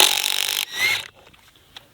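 A Dewalt 3-speed impact wrench set on high with a regular 1/2 inch impact socket: a loud, close burst of whirring tool noise for about a second that drops off, followed by faint scattered rattles.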